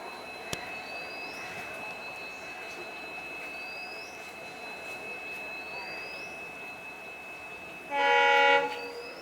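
The Mandovi Express, train 10104 from Madgaon to Mumbai Chhatrapati Shivaji Maharaj Terminus, approaches platform 1 with a steady low rumble, then sounds one brief, loud horn blast near the end.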